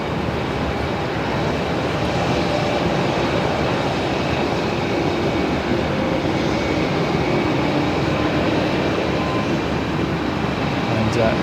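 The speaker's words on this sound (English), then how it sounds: "There we go, just beginning its taxi." An airliner's engines drone loudly and steadily at Melbourne Airport as the plane begins to taxi, a constant broadband roar with no letup, heard from an outdoor spotting position.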